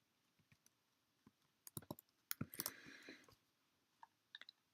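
Keys tapped on a computer keyboard while entering a search term, heard as quiet scattered clicks that bunch into a short, denser burst midway, then a few isolated taps near the end, with no talk.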